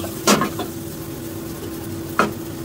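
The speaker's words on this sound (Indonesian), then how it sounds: "Dan sayur kailannya saya campurkan, jangan dimasak lama-lama seperti ini ya teman-teman ya." Kailan greens and supe mushrooms are stir-fried in a pan, giving a steady low sizzle with two quick scraping stirs of a utensil, close and moderately loud.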